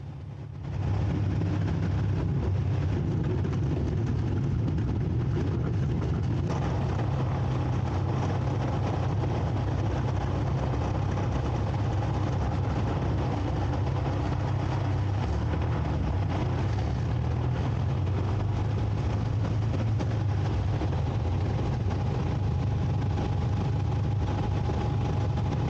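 The engine of a Falke SF25C motor glider drones steadily and loudly while it taxis after landing on an airstrip, a constant low rumble with no voices.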